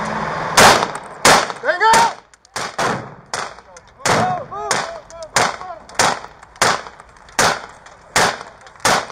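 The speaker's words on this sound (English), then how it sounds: "SWAT teams arrived on the scene and then were met with gunfire" A rapid series of sharp gunshots during a police shootout with SWAT teams, about a dozen loud cracks in irregular bursts, with faint shouting between them.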